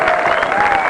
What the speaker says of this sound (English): And one last cheer for Pedlon Parliament!